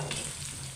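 Pork pieces sizzle and fry in a pan while being browned for binagoongan, a brief, soft, steady crackle heard up close with no voices.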